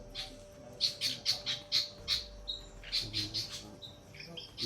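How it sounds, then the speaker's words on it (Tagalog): Outdoors, a bird gives a rapid series of sharp, squawking calls, fairly faint and repeated in quick bursts with brief pauses, with faint low rumble underneath. "Ibon."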